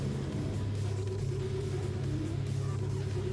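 A Toyota Supra's engine drones in Gran Turismo 7 during a race at Spa, a steady low rumble that holds even throughout with no clear revving.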